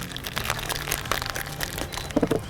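A cocktail shaker sealed tight and shaken hard, giving a steady run of rattling, crunchy ice clatter in a loose rhythm for a couple of seconds, close and fairly loud, with no talking.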